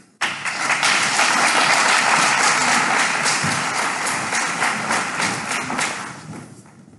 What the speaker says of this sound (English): So please give an applause to John Cherry.